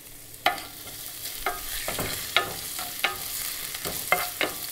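Ginger and garlic sauteing in a pan over a medium flame for a Kerala-style duck egg roast: a steady frying sizzle broken by sharp, irregular clinks and scrapes of a spoon stirring, close up and with no talking.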